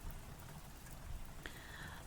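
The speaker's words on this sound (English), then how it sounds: "I didn't expect this rain." Steady rain falls in the visual novel Kokorogawari, a soft continuous hiss throughout, with a brief brighter tone appearing partway through.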